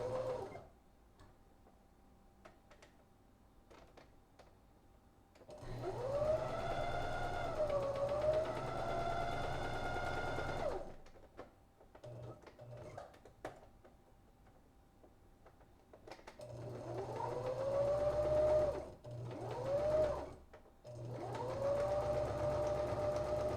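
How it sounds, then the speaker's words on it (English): A sewing machine stitches a foam costume wing, whirring in two long runs separated by quieter pauses and ending in short stop-start bursts. "This wing's sewing."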